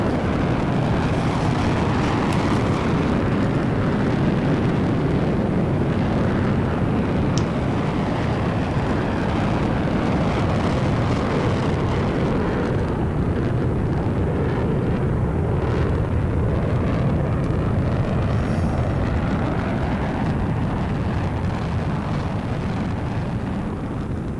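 A loud, constant engine roar from an F-14 jet in the FSX flight simulator as it takes off, dense and unbroken throughout, with no voices.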